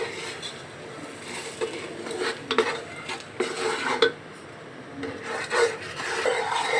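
A utensil scrapes and rubs steadily through meat masala in a pan. The stirring is near and continuous, with repeated scraping strokes and small knocks against the metal.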